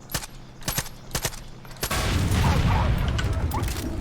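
Gunfire in Far Cry 5, a run of four or five sharp, evenly spaced shots followed by a heavy burst of sustained noise, like an explosion or a rapid barrage, that fills the rest of the clip.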